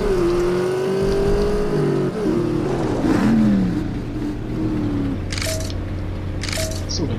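A race car revving and accelerating at full throttle in the World War II game The Saboteur, a loud engine whine rising and falling through gear changes, with screeches and other cars nearby.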